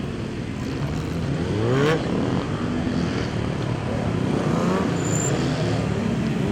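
A red Suzuki sport motorcycle in an SB-class gymkhana competition, its engine droning steadily at moderate distance as it carves sharp, tight turns, with brief rises in revs.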